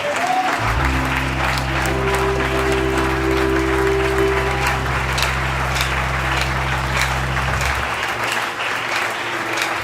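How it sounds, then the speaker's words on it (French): A church congregation at a Sunday service breaks into sustained applause in praise of Jesus Christ, loud and continuous from start to finish, with a low steady hum beneath and a few voices mixed in. "Acclamons le Seigneur Jésus-Christ."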